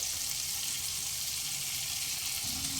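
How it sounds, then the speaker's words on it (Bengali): Chopped tomato sautéing in a pan for vegetable dal, giving a steady, even sizzle that hisses continuously from start to finish with no voices. "দিয়ে দেবো একটা বড় সাইজের কুচানো টমেটো তিন থেকে চার মিনিট টমেটোটা একটু কষিয়ে নেব"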